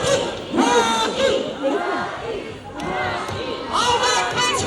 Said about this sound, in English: All the girls will cheer for Sassy.